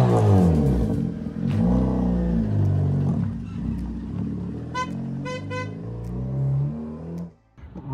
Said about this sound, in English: And this is my Citroen C2 VTS.